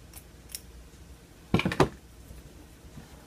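Scissors cutting lingerie lace at close range: a quick cluster of three or four sharp snips in a quiet room, with a faint click beforehand.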